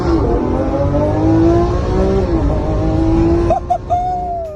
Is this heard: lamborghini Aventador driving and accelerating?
yes